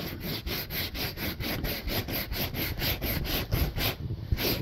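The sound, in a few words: brushing old glue off a Mini One car headliner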